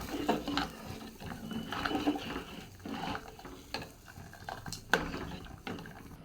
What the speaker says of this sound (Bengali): চালটা একটু দিয়ে একটু নাড়তে থাকি, নয়তো আবার চালটা দলা পেকে যাবে।